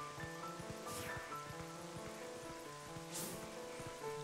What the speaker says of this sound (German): Schrecklicher Regen, da fällt das Treffen heute sicher aus.